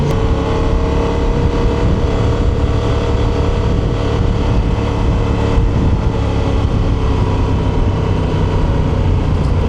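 A 2025 Honda Transalp motorcycle engine with its stock exhaust drones steadily at a constant pace, loud and close with wind noise mixed in, on an open-road ride.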